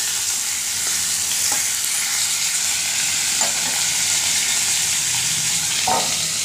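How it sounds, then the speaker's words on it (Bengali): Fish heads frying in a pan give off a continuous loud, hissing sizzle, close by, with a few faint clinks scattered across the clip and no voices. "এখন দুটো মাথা ছিল তো সেটাই ভাজি করছি।"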